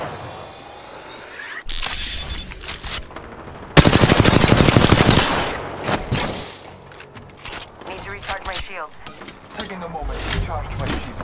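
Automatic weapons fire in Apex Legends comes in loud, rapid bursts, with a long sustained volley in the middle and scattered shots after. A voice talks over the gunfire.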